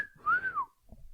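Groundhog, also called a whistle pig, gives a single clear rising-then-falling whistle like a wolf-whistle mating call, lasting about half a second, followed by faint low rustling.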